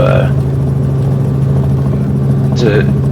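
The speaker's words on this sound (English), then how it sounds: "thanks everybody for riding in the helicopter with me" Steady loud drone of a helicopter in flight over Louisville and Oldham County, a continuous low rotor hum throughout, with brief chirps of radio or voice near the start and end.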